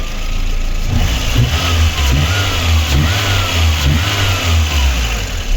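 A Lada 1118 1.6-litre car engine with over 300,000 km runs steadily up close after a cylinder head gasket repair and overhaul, a low continuous rumble with slight swells in revs and no one speaking.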